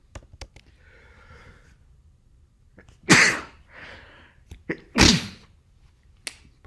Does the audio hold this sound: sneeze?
yes